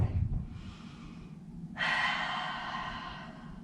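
Breathing during a Pilates exercise: a soft, low exhale, then a louder, breathy rush of air that holds for a couple of seconds, close and alone.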